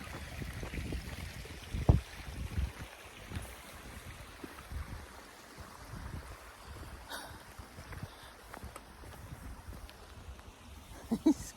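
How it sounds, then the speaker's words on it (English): Small river running through a wooded canyon, heard as a faint steady wash of flowing water with some low rumbling and light wind noise, no talking over it. "Here's the little river."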